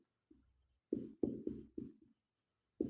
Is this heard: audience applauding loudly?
no